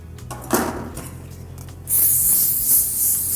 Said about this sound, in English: Finish it with the spray.